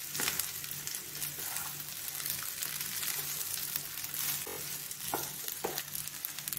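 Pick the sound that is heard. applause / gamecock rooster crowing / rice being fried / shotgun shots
rice being fried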